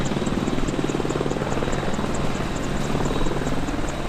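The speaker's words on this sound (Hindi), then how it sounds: "अपाचे हेलीकॉप्टर को उड़ता हुआ टैंक भी कहा जाता" An Apache attack helicopter flies with a loud, continuous rotor thumping and turbine whine that holds steady throughout, with no voices.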